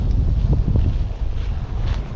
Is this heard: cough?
no